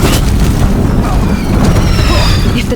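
Deathbringer war machines in Horizon Zero Dawn pounding a bridge with a loud, continuous rumble of booming explosions, with a voice mixed in beneath the blasts.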